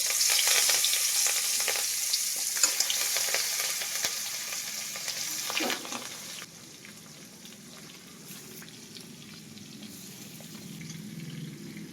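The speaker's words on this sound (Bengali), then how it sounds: "এবার একটা কড়াই বসিয়ে তার মধ্যে সর্ষের তেল গরম করে এক এক করে এই মাছগুলো তেলের মধ্যে দিয়ে দেবো।" Koi fish frying in hot mustard oil in a karahi, a steady loud sizzle with bright crackling that drops to a softer, quieter fry partway through, with occasional spatters and no talking.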